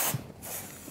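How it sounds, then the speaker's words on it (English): Liqui Moly Brake and Parts Cleaner, a high-pressure solvent, sprays in a short close burst with a loud airy hiss that fades within a second. "if Melissa, you can maybe spray me there. I can spray you. So what you'll see is a high pressure solvent"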